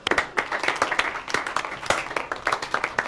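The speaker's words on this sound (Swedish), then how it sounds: "Tycker vi välkomnar honom med en varm applåd." A small group in a hockey team locker room gives a short burst of warm applause, with irregular, overlapping claps at close range.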